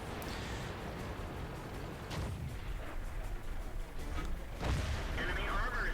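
Tank cannon fire and shells striking hull armour in the World of Tanks game, an IS-4 tier 10 heavy tank taking hits, heard as repeated booming impacts over constant rumbling battle noise with a voice talking throughout.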